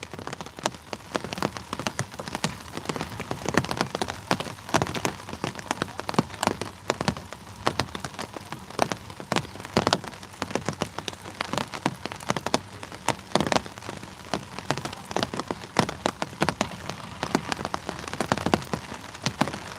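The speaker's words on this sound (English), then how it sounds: "Yeah, it's raining." Steady rain patters densely and evenly on the Cumberland River, with countless small drops hitting the water in a continuous close hiss.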